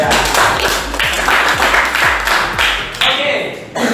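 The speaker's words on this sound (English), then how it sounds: "Give applause to Jaya." Classroom applause for a student named Jaya during an English lesson, a short burst of clapping from a small group with some distinct individual claps, fairly close.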